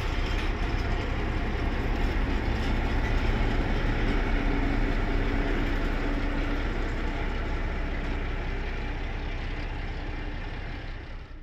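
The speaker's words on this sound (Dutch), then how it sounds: "De machinist kan aan de andere kant van de trein staan en zo de trein veilig over het terrein bewegen." Freight train at a terminal yard being shunted by a radio-controlled locomotive, a steady loud rumble of rolling wagons and idling engine throughout, slowly easing off toward the end, with no voices.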